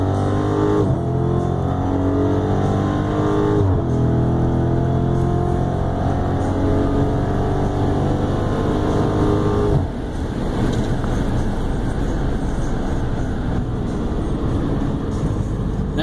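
A 2016 Dodge Challenger Scat Pack with the 392 V8 launches on a quarter-mile run, its engine roaring loud and close as it climbs through the revs, dropping at a gear change, then building again.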